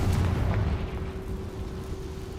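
A Confringo fire spell bursts in Hogwarts Legacy, a loud booming explosion at the start that rumbles and fades over a couple of seconds, with no talk.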